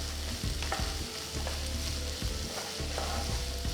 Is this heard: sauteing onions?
yes